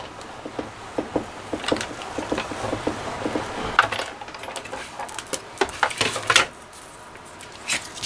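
A Big Shot die-cutting machine embosses paper as it is cranked, producing a string of light, irregular clicks and ticks at close range.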